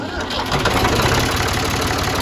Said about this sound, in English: this tractor starts like pretty much fires right up